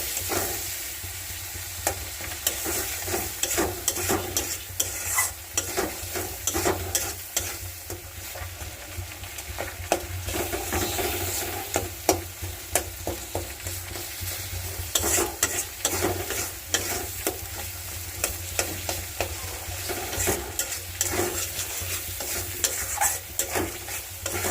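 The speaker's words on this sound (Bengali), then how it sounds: "মাছ দিয়ে দিছি, ভাজতে হতেছে। ভাজা হতেছে।" Fish fries in a pan over a gas flame, a continuous close sizzle broken by frequent crackles, spatters and scraping stirs, with no voices throughout.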